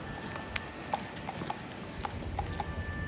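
A 12-year-old Tennessee Walking Horse gelding walks with a steady, fairly faint clip-clop of hooves, irregular single strikes spread across a few seconds over soft background noise.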